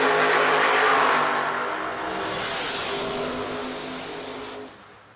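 A Camaro drag car engine roars loud and close at a drag race, Yellow Bullet Nationals 2022. The revving snarl gradually fades over a few seconds.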